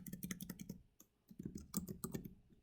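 Fingers type text on a computer keyboard in quick bursts of close, crisp key clicks, with a short pause midway before the tapping resumes.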